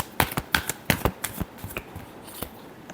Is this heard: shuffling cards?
yes